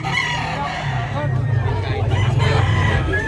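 Roosters crow loudly and repeatedly at a busy early-morning chicken market holding about 2,500 birds, with clucking, a steady low rumble and voices in the background.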